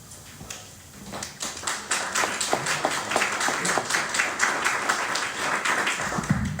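Applause breaks out at a public civic meeting to welcome a new Ward 3 councilmember, a dense patter of many hands clapping in the room that builds after a brief moment and carries on steadily to the end.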